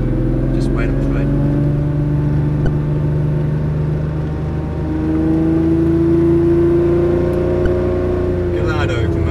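Ferrari supercar accelerating on the Hampton Downs race track near Auckland, a loud rising engine drone with climbing tones, heard from close by alongside a passing rumble.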